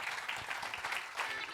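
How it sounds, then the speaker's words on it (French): Studio audience applauding at a radio and TV broadcast of the musical Marilyn, steady dense clapping throughout a short stretch at moderate level. "on peut les applaudir très très très fort"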